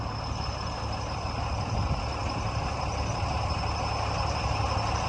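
A 2002 Case 580M backhoe engine idles at a steady, close diesel rumble with a constant vibrating drone and no variation in pitch.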